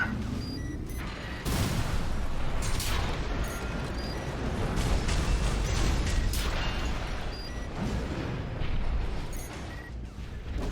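Missiles fired at several enemies in Armored Core VI launch in a dense rumbling barrage of whooshes and blasts, several strong bursts over a continuous roaring mech and battle din, loud and close.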